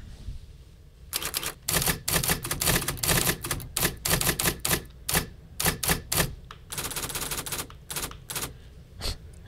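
Typewriter keys strike in rapid, uneven bursts of sharp clacks with short pauses between runs, loud and close, with no voices.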